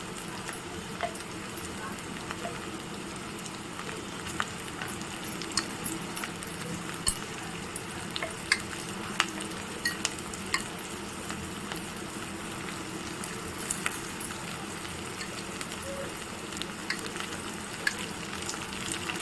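Faint sizzling and crackling of a green chili and salt paste frying in a pan, with scattered pops and light stirring sounds throughout.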